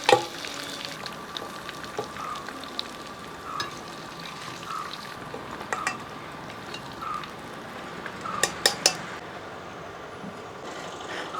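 Chicken pieces fry in oil in a pan with a continuous crackling sizzle, punctuated by sharp metallic clinks of a spoon against the pan, heard close with no talking.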